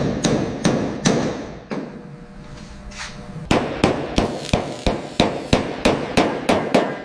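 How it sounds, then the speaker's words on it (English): A hammer strikes car body metal on a Buick Skylark restoration, sharp ringing blows in a steady rhythm, with a short pause before the regular near, loud strikes resume. "Listen to the rhythm of the hammer."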